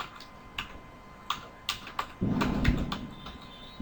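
Text typed on a computer keyboard, sparse clicks at first giving way to a denser cluster of close keystrokes, with no voices.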